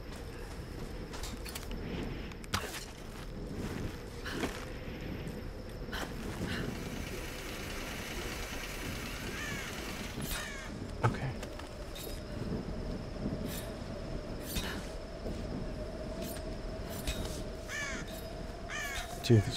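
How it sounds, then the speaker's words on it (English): Crows caw repeatedly in the 2013 Tomb Raider video game, scattered harsh calls over a low ambient game soundscape with occasional louder bursts and faint background noise. "these freaking crows"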